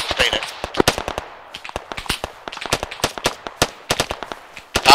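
Sustained gunfire in ARMA 3, a string of sharp, loud individual shots in an uneven rhythm with a few quick bursts, close by and fairly dry, with faint talk beneath.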